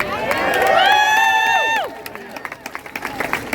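A rally crowd at a Labor Day march cheers with a loud sustained whistle-like shout rising over the noise, then settles into scattered claps and voices.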